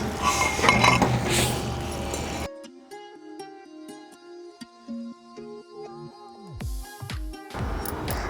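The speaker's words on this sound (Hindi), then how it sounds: "हम कढ़ाई को नीचे उतार लेंगे" A kadhai holding parwal sabzi is lifted off the stove, producing a series of bright metallic clinks and knocks, some ringing, in close quarters between louder stretches of background noise.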